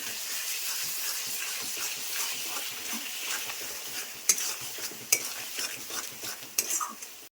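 Chopped vegetables with freshly added tomato sizzle steadily in a hot pan for a Bengali jackfruit-fritter curry, with close stirring and a few sharp clanks of a metal spoon against the pan toward the end.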